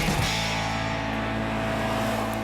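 Steady, even engine drone and road noise inside a 2014 Toyota Corolla LE Eco driving along, a continuous low hum with no voices.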